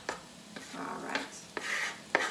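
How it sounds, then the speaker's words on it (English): Vegetables and garlic being stirred in oil in a soup pot, a few scraping, rubbing strokes spaced about half a second apart, close and fairly quiet with no talk. "we're gonna stir this a little bit so that the oil gets nicely spread over all the vegetables"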